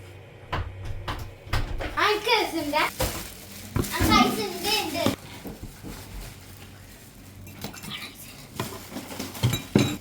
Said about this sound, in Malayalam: ചോറിന്റെ ദം പൊട്ടിക്കുന്നതാണ്